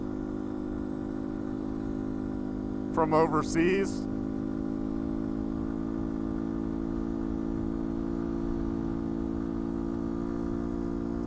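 A 2019 Beta 125 RR-S motorcycle with a Yamaha WR125 engine idles steadily with a low, even drone throughout, and a brief spoken phrase is heard over it early on.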